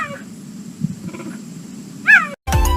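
A cheetah, a big cat unable to roar, gives high chirping and yelping calls, including a loud rising squeal near the end, over a steady low background, followed by a sudden cut to a different sound.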